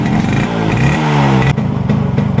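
A 1978 Yamaha L2 DX classic motorcycle idles loud and close after a kick-start, with its engine note rising briefly in a rev and then settling into a steady, slightly uneven putter with mechanical clatter.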